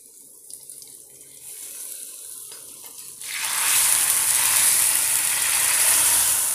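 Mustard seeds, shallots and chilli tempered in hot oil are poured into a snake gourd and dry fish curry, setting off a loud, steady hiss that swells suddenly midway and holds, close and alone.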